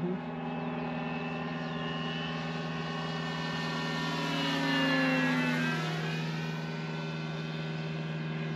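Model FW190 aircraft in flight, its steady propeller-engine whine passing overhead with a rising and falling pitch sweep as it flies by, fairly distant and continuous, with no talk.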